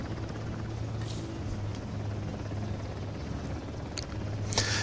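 A helicopter in the video game Uncharted: The Lost Legacy drones with a low, steady rotor hum, heard at moderate distance beneath a few sharp clicks and bursts.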